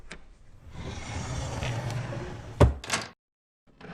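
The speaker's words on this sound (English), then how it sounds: "As the desk is closed, the spring mechanism rewinds." An 18th-century French mechanical desk closing as its coil-spring mechanism rewinds: a sustained sliding, whirring wooden rumble, then a sharp close-up knock and brief clatter before it falls silent, with a faint tap afterward.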